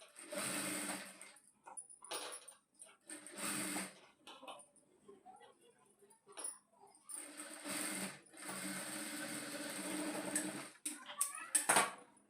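A sewing machine stitches piping onto a blouse in several bursts of fast mechanical whirring, separated by short pauses with faint handling noises.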